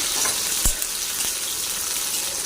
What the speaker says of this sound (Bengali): টমাটমটাও দিয়ে দিলাম। এটাকেও একটু নরম করে ভেজে নেব।